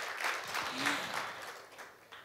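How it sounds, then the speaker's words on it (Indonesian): Congregation clapping at a church worship service, a steady wash of applause through most of the clip that thins toward the end, with a brief voice rising above it. "Yang mau beri tepuk tangan yuk buat Tuhan yang dahsyat."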